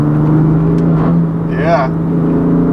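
2016 BMW M3 with DCT gearbox, mid-pipe and tune, its engine and exhaust droning steadily with a rising burble and crackle midway; a voice talks over it.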